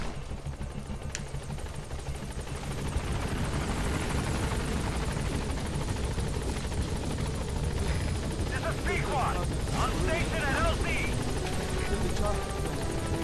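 Helicopter arriving in the video game Metal Gear Solid V, a steady rotor drone that grows slightly louder and more intense, with game effects and a speaking voice over it.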